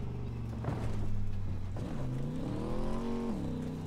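Car engine in Cyberpunk 2077 droning and revving as the vehicle bounces along off-road on stiff suspension, pitch rising and falling steadily, close and continuous with no talk.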